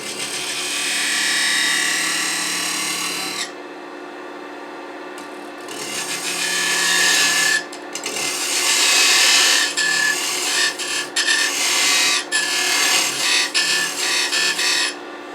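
Wood blank spinning on a lathe while a tenon is cut for a chuck, a loud steady scraping hiss that drops briefly, then returns in choppy bursts of tool contact with short gaps between cuts.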